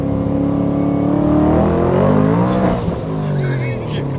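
Twin-turbo Ford Mustang engine revving in a brief burst, loud and close, its rumbling tone climbing and falling back to a steady idle, with a voice over it.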